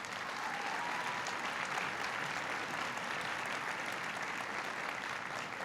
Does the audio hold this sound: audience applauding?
yes